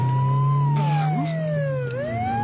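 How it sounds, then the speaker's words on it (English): An ambulance siren in a radio drama sound effect wails loud and near, a continuous tone that slowly falls and then rises again over a low engine rumble, with no voices. "that's the 4th ambulance in the last half hour"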